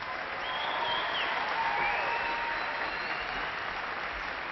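Audience applause for graduates at a university fall commencement ceremony, a steady, somewhat distant wash of clapping in a large hall, with faint tonal sounds drifting through.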